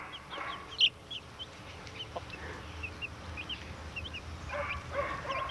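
Soft chirps and peeps of small chickens scattered throughout, with a few brief clucks over a faint background hum.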